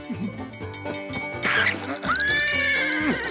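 A horse whinnies loudly and close, its shrill call rising and wavering, with a second drawn-out neigh following over a soft musical background.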